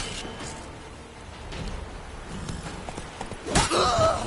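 In The Witcher 3, the horse Roach's hooves clip-clop in a galloping rhythm under a rainy ambience, with a louder burst of movement near the end.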